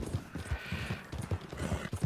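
Horse hooves clip-clop in the video game Red Dead Redemption 2, a brisk, regular run of close, distinct hoofbeats on a trail with no talking over them.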